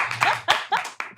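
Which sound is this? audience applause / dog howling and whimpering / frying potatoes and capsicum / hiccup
audience applause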